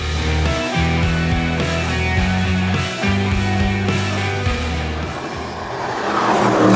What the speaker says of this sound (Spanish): lo que quiero es exactamente exprimir el V8 que hay debajo del capó